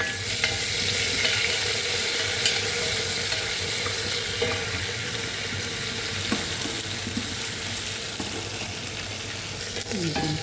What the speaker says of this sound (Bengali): আমরা ফোড়নে দিয়ে এলাম চাউতের মশলা, শুকনো লঙ্কা, রসুন কুচি, মোটা মোটা পেঁয়াজ